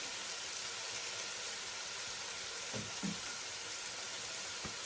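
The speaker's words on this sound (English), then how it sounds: "So in the meantime, this is frying away." Quiet, steady sizzle of chicken wings frying in a pan, with a few soft clicks and pops.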